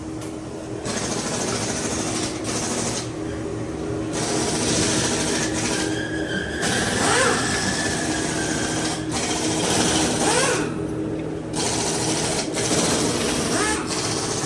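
A wheel balancing machine spins a large tire from a 2023 Ram TX riding on 30-inch wheels in a shop. It makes a loud, continuous mechanical whir and rumble, with brief dips and surges as it runs.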